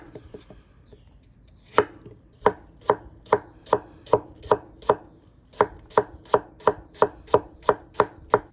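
A knife slicing an apple into thin slices on a cutting board while making a leftover turkey sandwich: a few soft cuts, then a steady run of crisp, evenly spaced chops, close and clear with no talk.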